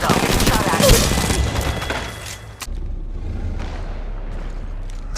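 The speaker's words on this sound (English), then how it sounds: "I'm taking fire. Firing. I'm taking shots." Gunfire in the mobile battle game Apex Legends Mobile, a loud close burst of rapid shots and booms that fades into a rumbling exchange of more distant fire with sharp cracks.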